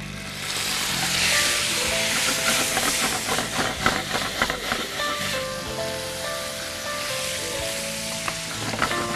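Shrimp sizzling in plenty of hot ghee with whole garam masala in a pan, a loud steady frying hiss with crackling pops throughout.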